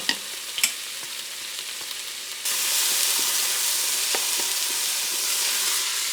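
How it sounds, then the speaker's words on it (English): Rice and lentils toast with onions in a hot pan, giving a steady close sizzle that swells louder partway through, broken by a few sharp scrapes and taps of stirring. "I'm just cooking this to get rid of some of the moisture so that the rice and the lentils toast a little bit"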